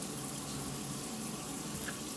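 An indoor planting tray of freshly sown salad greens gets a light shower of water, a soft, even spraying hiss that runs steadily for a couple of seconds, close and fairly quiet.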